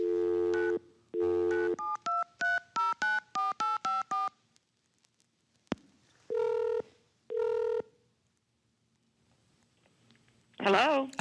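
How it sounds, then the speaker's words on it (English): A telephone number keyed in on a phone keypad: a quick series of about ten sharp, evenly spaced DTMF tones, then a pause and a few more tones, close and clear, ending in a brief voice. "I'm dialing her number now."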